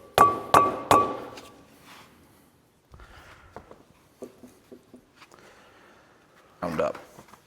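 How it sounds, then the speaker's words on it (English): Metal tool strikes ring out as a bearing is driven from a Ford 7740 tractor's front hub: three loud, close, clanging hammer blows, then quieter scattered knocks and scraping, and a final burst of rattling near the end. "So now we've just got to get this bearing out."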